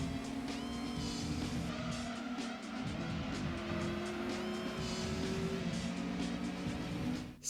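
Racing engine roar and tire squeal from the PlayStation game Gran Turismo 2, with revving pitch that rises and drops through gear changes and long squealing skids over steady engine noise.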